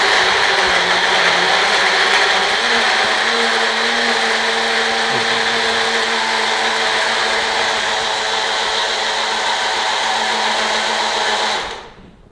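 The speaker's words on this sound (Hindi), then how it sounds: "बस मिक्सी, ये हमारी मिक्सी को तो एक मिनट ही लगता है, बहुत पावरफुल मिक्सी है।" A powerful electric mixer grinder runs steadily and loudly for about eleven seconds with a dense, high whirring drone, then cuts off abruptly at the end.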